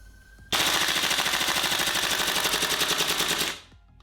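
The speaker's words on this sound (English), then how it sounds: "Managed to clear a second 35 round magazine on the 12 second gas charge." Tokyo Marui M4 MWS gas blowback airsoft rifle emptying a 35-round magazine on full auto, a rapid, even burst of sharp pops lasting about three seconds, close and loud, then stopping abruptly.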